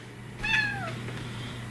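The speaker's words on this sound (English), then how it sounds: "You're a sweet cat." A pet cat gives a single clear, close meow that slides downward in pitch, over a low steady kitchen hum.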